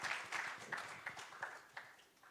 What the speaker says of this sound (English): Let's have ourselves a big round of applause.